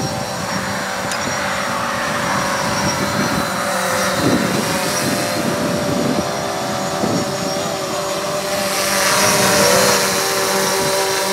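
A DJI Mavic Pro drone hovers and drifts in Atti mode, giving off a steady, fairly loud propeller whine with layered tonal hum. The whine swells slightly near the end and continues without any voices.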